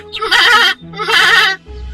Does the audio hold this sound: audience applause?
no